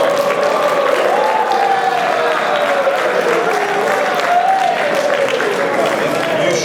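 Audience applause at a school Martin Luther King celebration, steady clapping from a hall crowd with someone speaking over it through much of the stretch.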